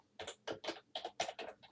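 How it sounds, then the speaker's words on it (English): Keys on a computer keyboard clack nearby in short uneven bursts, a quick run of roughly eight soft taps with brief pauses between them, quiet and with no talking. "So I'm typing the name"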